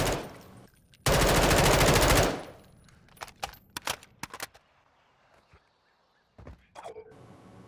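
Automatic gunfire from Modern Warfare 2 multiplayer on the El Asilo map: a loud sustained burst of rapid machine-gun fire, followed by scattered single shots and thuds fading into quieter gaps.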